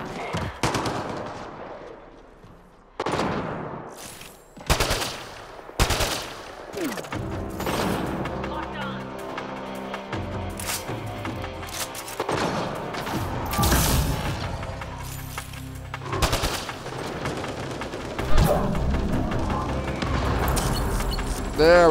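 Gunfire in the video game Mass Effect Andromeda: a string of loud, sharp shots and bursts with booming impacts, densely layered over a busy game soundtrack and effects throughout.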